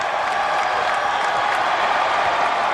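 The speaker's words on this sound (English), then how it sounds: "the fans standing and cheering because some of the little men who don't play much are about to come into this game" Basketball crowd at a Penn State versus Pitt game standing and cheering, a steady dense wash of applause and crowd roar, loud and continuous with no break.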